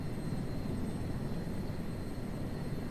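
Steady broadband engine roar of an aircraft taking off in Microsoft Flight Simulator 2024, a continuous even drone with a faint high whine, heard alone with no talk.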